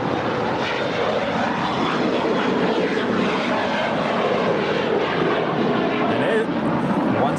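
An airliner, flight 641 bound for Guatemala City, rumbles steadily and loudly at LAX, a continuous engine roar filling the whole stretch without pause.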